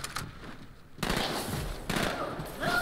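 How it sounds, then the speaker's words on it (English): Several enemies open fire in the Halo 2 campaign, bursts of rapid automatic gunfire with a loud, dense stretch partway through and continued firing toward the end. "Seven people start shooting you."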